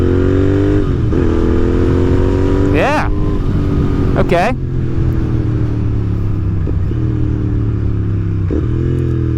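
A race-oriented Royal Enfield motorcycle engine running loud and close, with sharp blips of revving as gears are dropped and a steady idle drone between them; a person speaks briefly over it.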